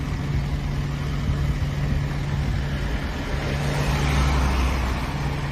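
A diesel lorry engine idles with a steady, low rumbling drone that stays at an even loudness throughout, without any voices.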